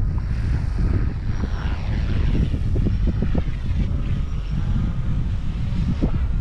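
Eachine E120S budget beginner RC helicopter flying close by, a steady whirring rotor and motor drone with gusting wind noise over the microphone and no talk.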